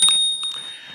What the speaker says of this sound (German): das ist die Klingel, die hier im Bremsgriff integriert ist.